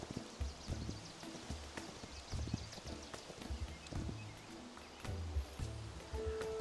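A horse's hooves clip-clop in the Hytale video game, a series of quiet, irregular footfalls over soft outdoor ambience with no voices.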